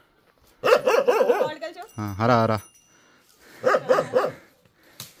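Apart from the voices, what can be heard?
dog barking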